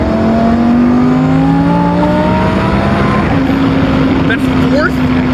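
A 1000 HP twin turbo Lamborghini accelerates hard up through its gears, a loud, steady engine roar climbing in pitch, dropping at a shift and climbing again, with wind and road noise and voices in the cabin.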